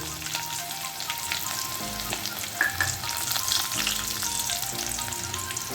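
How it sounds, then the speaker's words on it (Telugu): Onion and asafoetida tempering frying in a pan for mango dal, a steady close crackling sizzle with occasional stirring scrapes and small pops, no voices. "తాలింపు ఆల్మోస్ట్ అయిపోవచ్చింది. ఇప్పుడు దీంట్లో మనం కొంచెం ఇంగువ పొడి వేసుకుందాం."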